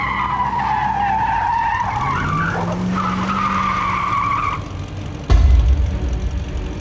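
Truck tires skid in a long, loud screech that swoops and wavers for several seconds, then a sudden low thump, with engine rumble underneath as the squeal fades.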